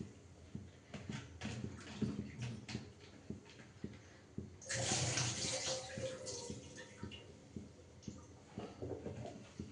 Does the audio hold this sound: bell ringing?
no